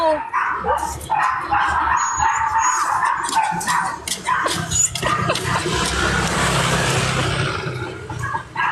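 A dog barks repeatedly in loud, close, yappy bursts with some whimpering, while people talk over it and a car sounds in the background.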